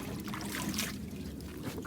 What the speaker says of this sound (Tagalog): Pag na incorporate na po yung lahat ng ingredients, lalagyan na po ng tubig